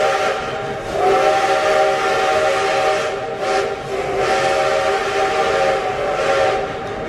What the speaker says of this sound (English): is a Canadian National 5-chime steam whistle.